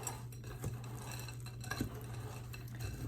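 A spoon scrapes and clinks around a bowl while chocolate chips, walnuts and flour are mixed together, a steady close stirring rattle with no voices.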